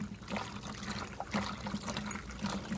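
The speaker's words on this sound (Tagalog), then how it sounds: "Lagyan natin to ng tubig mga kabigan para diretsyo natin hugasan doon." Water runs from a garden hose into a container on a vegetable farm, a soft, steady trickle and splash at close range with no talking.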